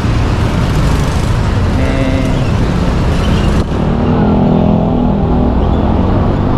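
A motorized tricycle rides along a road in a loud, steady engine drone with constant road and wind noise, heard close throughout.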